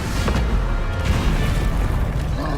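A Confringo spell blast in a Harry Potter video game, heard as dense, loud booming bursts and rumbling crashes that carry on for the whole moment.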